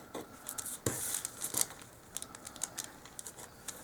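Thin wooden craft sticks are cut to length for a miniature dollhouse sled, giving a string of sharp snips and small crackling clicks, close and fairly quiet, with no talk.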